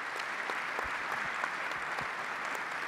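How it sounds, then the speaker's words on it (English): Sustained audience applause for Jessica and Darryl at a sports analytics conference opening, a broad, even patter of many hands heard from a distance at low volume, with a few thumps underneath. "Would you please offer your applause"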